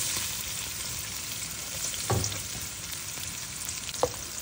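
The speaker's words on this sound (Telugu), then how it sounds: "నూనె కాగింది. అందులో ఇప్పుడు గార్లిక్ ముక్కలు వేస్తున్నాను చూడండి." Garlic pieces fry in hot oil in a pan, a steady close hiss of sizzling with a couple of brief scraping stir clatters, no voices.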